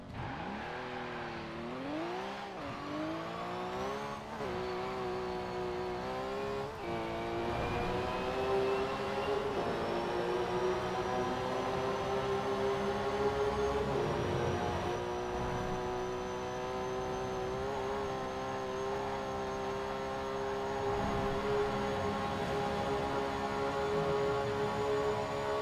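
A TVR Cerbera GT1 in Forza Horizon 4 revs hard and climbs through several gear shifts, then settles into a loud, sustained high-pitched engine whine at top speed.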